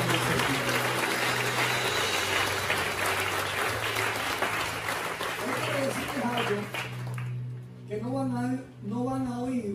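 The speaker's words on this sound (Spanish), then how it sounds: "Si quieren, le puedes aplaudir con estos manitos juntas." A church congregation applauds in a dense, sustained burst of clapping that fades out near the end, giving way to a voice.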